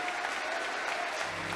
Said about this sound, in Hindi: तो जोरदार तालियां होनी चाहिए इन सारी